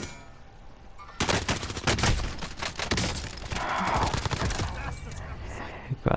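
Rapid video-game gunfire bursts out after a quiet second, dense volleys of shots crackling loudly and continuously before thinning near the end, with faint talk underneath.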